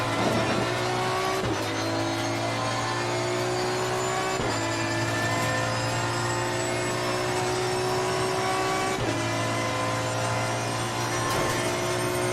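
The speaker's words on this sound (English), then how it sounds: "That was some good drift over there." A race car in a racing video game at the Mount Panorama circuit roars continuously with engine whine and tire squeal while drifting through corners, loud and steady with brief shifts in pitch, no talking.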